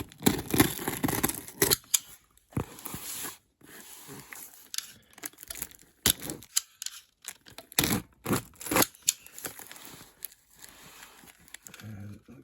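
A mail package being cut open, with close, bursty scraping, crinkling and tearing of cardboard and plastic packaging, broken by short pauses.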